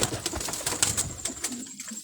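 A pigeon at a pigeon fanciers' club cooing and fluttering up close, a short run of soft repeated coos with bright chirpy accents and no talking.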